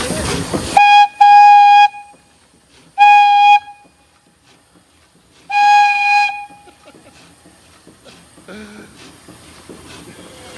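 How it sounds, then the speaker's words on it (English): A small steam whistle blows three times, each a bright, steady tone lasting about a second, with quiet pauses and faint background noise between. "That right there would be like an amusement park whistle."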